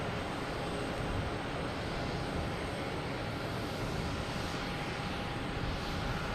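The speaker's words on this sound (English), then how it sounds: "we have a Delta coming in from Denver" A Delta Airbus A321neo on approach to Boston Logan after a flight from Denver gives off a steady, broad jet engine roar with a thin high whine. The sound is continuous and fairly strong, with no talking.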